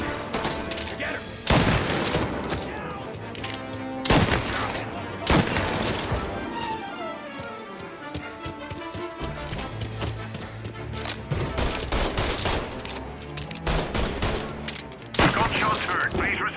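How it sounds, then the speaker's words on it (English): Gunfire in the video game Mafia Definitive Edition, with repeated bursts of loud shots and fusillades separated by brief lulls, over a sustained mechanical and ambient game background. "Gunshots heard."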